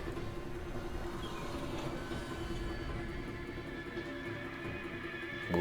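An elevator climbs in the shooter game F.E.A.R., a steady mechanical rumble with faint squealing tones running evenly throughout.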